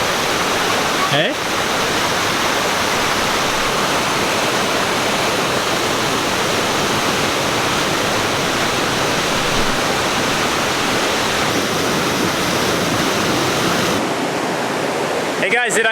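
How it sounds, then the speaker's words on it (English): Waterfall near Uvita, Costa Rica, roaring as a loud, steady broadband rush that fills the scene nearly throughout, with a brief knock early on and the roar dropping away in the last two seconds. "I can already hear it, and I can tell this is gonna be a cool waterfall."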